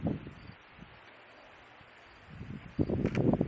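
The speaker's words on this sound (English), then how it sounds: "Ooh, now we're really getting some wind." Gusts of wind sweep over a cornfield, building from a quiet rustle to loud buffeting bursts near the end, with leaves thrashing and the microphone catching rumbling wind noise.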